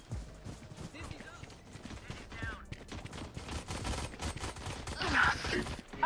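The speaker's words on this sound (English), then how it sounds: "I'm just like shooting to the side of people" Rapid bursts of video game gunfire crackle at moderate loudness, mixed with other game sounds, while a voice talks over them.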